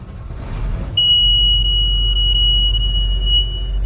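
A loud, steady high-pitched alarm tone sounds continuously over a deep engine rumble from a Case 2388 combine harvester that starts up just before it.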